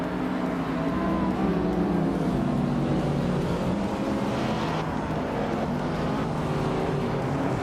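Race cars, including a 2016 Porsche 718 Cayman S, roar off the line together at the start of a track race, a dense, loud, continuous blend of engines with no break.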